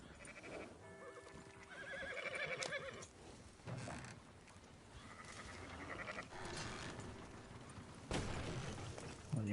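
In the Red Dead Redemption 2 video game, horses whinny several times over clip-clopping hooves, with layered game sounds and sharp bursts in between, fairly loud and close.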